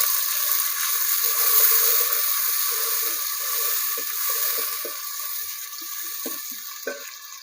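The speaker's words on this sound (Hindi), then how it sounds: "इस गर्म शुदा ऑयल में थोड़ा सा वाइट प्याज और सब्ज लहसुन डाल देंगे और इसे अच्छी तरह से दोनों चीज़ों को फ्राई कर लेंगे।" White onion and green garlic fry in hot oil, giving a steady hiss with a watery, running-tap quality and a few scattered low clicks, fairly loud and close with no voices.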